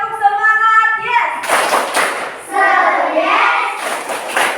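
Children in a classroom clap a rhythmic spirit clap, sharp repeated hand claps mixed with chanted voices, loud and close, with group shouting throughout.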